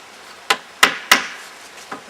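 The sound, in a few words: hammering number 6 decking nails into a roof frame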